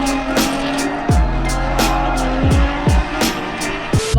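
Car drifting, with loud engine revs rising and falling through repeated gear or throttle surges while tires squeal and scrub continuously close by.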